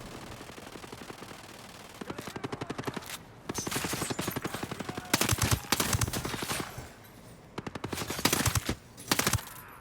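Automatic and rapid gunfire in the video game Tom Clancy's Ghost Recon Breakpoint, coming in repeated loud bursts of rattling shots with short gaps between volleys and no talking.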